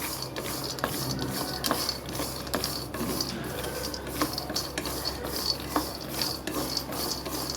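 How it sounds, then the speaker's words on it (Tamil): Peanuts roasting in a pan for chutney are stirred in a steady scraping, rattling rhythm, with a dense continuous sizzle and repeated soft clatter of a spoon against the metal. "ஃபஸ்ட்டு நிலக்கடலையை வறுத்து எடுத்துக்கலாம்."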